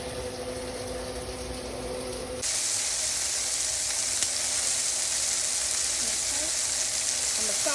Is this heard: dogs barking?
no